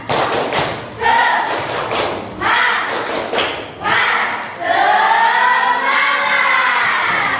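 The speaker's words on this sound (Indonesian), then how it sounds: "Lagi, tepuk semangat." A primary school class performs the 'tepuk semangat' spirit clap together: loud bursts of rhythmic group clapping and thumping, ending in a sustained shouted chant from many children.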